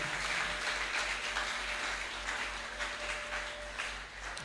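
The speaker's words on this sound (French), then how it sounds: "Quelqu'un peut acclamer très fort pour le Seigneur." Crowd at a Christian convention closing service cheering and applauding for the Lord, a steady wash of clapping and voices throughout, moderately distant with a low hum underneath.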